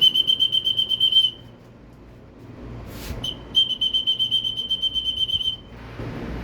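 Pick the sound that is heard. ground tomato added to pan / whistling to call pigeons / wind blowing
whistling to call pigeons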